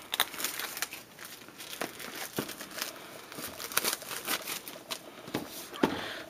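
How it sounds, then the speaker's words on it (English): Plastic packaging wrapped around a laptop SSD and an 8GB RAM stick being peeled and unwrapped up close, with steady crinkling and crackling, bursts of sharper tearing spread across the clip, no voices. "let's go ahead and pop the plastic right here, and we'll unwrap it."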